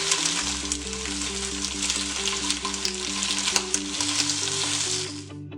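Chicken pieces fry in hot coconut oil for a Malabar chicken dish, giving a loud, dense, continuous sizzle with faint crackles and no voices.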